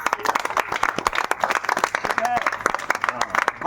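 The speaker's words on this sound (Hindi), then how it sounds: "आप जोर से ताली बजाइए" A crowd clapping at a political rally in Hathua, a close, brisk patter of many hands with a few voices rising over it.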